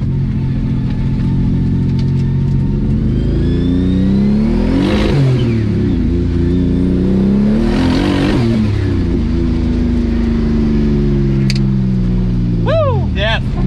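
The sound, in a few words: BMW E36 M50 turbo engine revving on limiter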